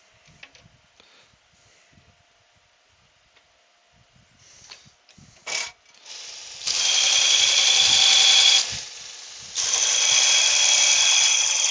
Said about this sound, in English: Let's just sharpen this up and we'll be alright.